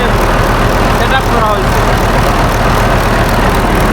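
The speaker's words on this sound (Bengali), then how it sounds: "এটা টেন সিলিন্ডারের পাওয়ারফুল ইঞ্জিন লাগানো আছে" A powerful ten-cylinder ship's engine, the generator type used on big ships, runs aboard a large sand-carrying bulkhead vessel, giving a loud, steady, unbroken drone and rumble throughout.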